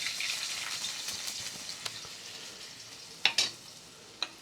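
Garlic fries in a pan, a close, steady sizzle with scattered crackles and a few sharp spatters or spoon clinks near the end.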